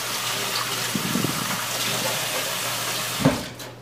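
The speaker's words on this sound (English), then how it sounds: "Now I'm going to show you what happens when you wash your hands haphazardly." Hands are washed under a running tap, a steady hiss of water pouring close into a sink with soft splashes and a brief louder rub near the end.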